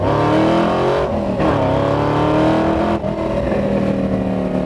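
A 1967 Ford Mustang with a stroker engine rumbles loudly from inside the car, deep and throaty, with rising and falling revs as it drives and shifts, no talk.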